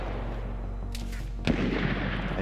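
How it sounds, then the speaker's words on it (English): Sniper rifle fire in the online shooter DayZ, from a VSD shooting from a tree line at about 300 metres. A faint double crack comes first, then one sharper report, over a steady game ambience. "He's shooting at you now."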